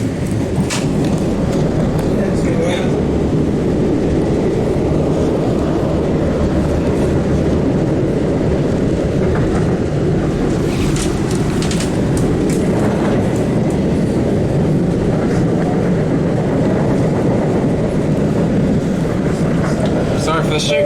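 Onboard an MBTA Siemens 700 Series Blue Line subway train in motion, with a steady loud rumble of wheels on rails and occasional clicks and rattles throughout.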